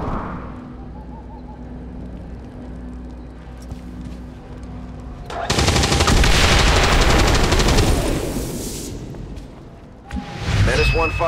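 Heavy gunfire and explosive combat noise from XCOM 2 War of the Chosen, a loud sustained blast of shots and rumble in the middle, with game ambience and a brief further burst near the end.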